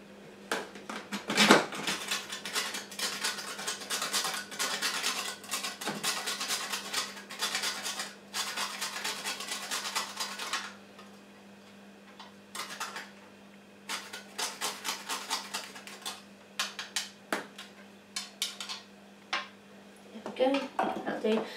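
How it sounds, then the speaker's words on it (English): Whole nutmeg is grated by hand for a carrot cake batter, giving bursts of dry scraping strokes in a home kitchen, with quieter pauses between runs and speech heard around them. "I've just got these whole ones, so I'm just going to grate some nutmeg now"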